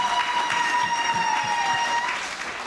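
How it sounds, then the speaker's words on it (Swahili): An audience at a Catholic Mass claps together, filling the room with a steady burst of applause for the visiting friars and priests that begins to thin slightly at the end. "Naomba tuwapigie makofi"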